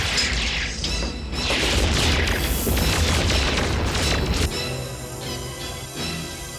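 A G.I. Joe cartoon explosion destroys the Dragonfire command center with a loud sustained boom and crashing debris rolling for several seconds, then easing into a rumbling tail with a higher ringing tone, with no voices over it.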